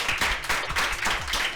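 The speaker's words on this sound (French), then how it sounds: "Donc Lucie, qu'on peut applaudir très très fort." An audience applauds at an evening show in a living-room setting in Gandrange, a continuous crowd clapping that stays fairly loud and steady with a low rumble beneath, and no clear speech on top.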